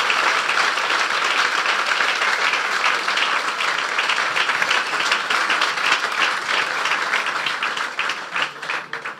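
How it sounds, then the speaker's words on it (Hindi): A church congregation at a Resurrection Day service applauds loudly, a dense, sustained wash of clapping that holds steady throughout and fades slightly at the end. "उसके जलाल के लिए जोरदार तालियां बजाएंगे।"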